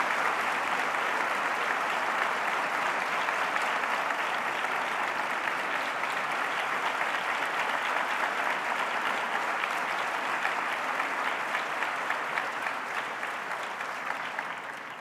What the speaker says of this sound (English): A big round of applause and our best wishes to each one of them.